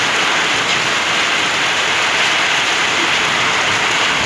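Heavy rain pours steadily during a severe storm with flooding in Uyali, a dense, even hiss that holds throughout with no voices.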